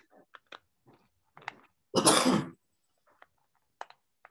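A single abrupt sneeze bursts out between faint, scattered clicks and quiet background noises in an otherwise hushed room.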